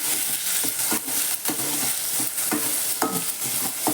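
Wheat kurdai with turmeric and spice masala being stir-fried in a pan: a continuous loud sizzle with frequent scraping and tapping of a spatula against the pan, close by and without talking.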